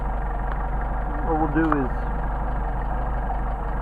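A Mercedes 190SL engine fitted with Solex carburetors idles steadily and close, a low continuous rumble running through the whole stretch while someone speaks briefly over it.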